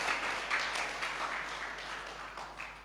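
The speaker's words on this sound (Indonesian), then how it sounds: "Tepuk tangan yang meriah dulu bagi Tuhan kita." Church congregation applauding during a sermon, a steady wash of many hands clapping at moderate distance, fairly quiet and even throughout with no talk over it.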